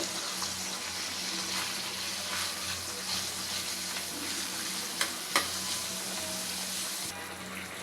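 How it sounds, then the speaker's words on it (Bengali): A halved tomato with dried chillies, ginger, garlic and cumin frying in oil, sizzling steadily and fairly softly under occasional stirring, with two brief utensil knocks partway through. "এই যে এখানে একটা টমেটো দুই ভাগ করে নিছি, এটা ভাজা দিচ্ছি।"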